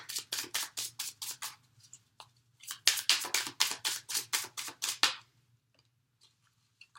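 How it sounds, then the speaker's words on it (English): Tarot cards dropped and shuffled by hand, a quick run of crisp papery flicks and slaps close by, pausing briefly before a second dense burst, then trailing off into a faint low hum. "I'm dropping cards all over the place."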